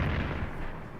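Defensive artillery fire in the strategy war game Strategic Command set in 1939 Europe, a single heavy boom with a rolling rumble that decays over a second, with no talk.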